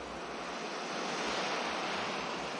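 Ocean waves break near the shore in a steady, loud wash of surf that fills the whole stretch with continuous broadband rushing and no voices.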